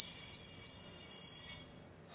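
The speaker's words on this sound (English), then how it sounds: "a high note from a piccolo" A single high piccolo note holds steady for about two seconds, a thin clear tone with faint overtones, close and fairly loud, then fades near the end.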